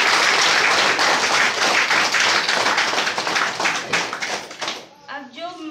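Loud audience applause fills the room, dense rapid clapping that holds steady for several seconds before thinning out, followed by a voice speaking as it fades.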